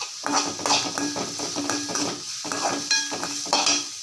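Mint and coriander leaves with a little turmeric sizzle in a hot pan while a utensil scrapes and stirs in an irregular rhythm, close up, without speech.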